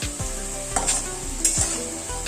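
Sago frying and being stirred in a hot pan for khichuri, a steady close sizzle broken by a few sharp scrapes of the spoon against the metal.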